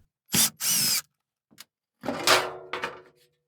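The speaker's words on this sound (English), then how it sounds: "Now I can remove the access panel with a 5/16 nut driver." A 5/16 nut driver on a power drill removing screws from a furnace access panel, with two short close whirring bursts, a small click, then a longer run that trails off with a rattle.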